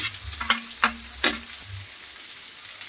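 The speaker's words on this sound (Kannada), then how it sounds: "ಇದು ಹಸಿರು ಮೆಣಸಿನ್ಕಾಯಿ ಸ್ವಲ್ಪ ಫ್ರೈ ಆಗಲಿ" Green chillies and onion frying in a pan for chicken gravy, a low hissing sizzle broken by three or four quick scrapes of a spatula, close and quiet, no one talking.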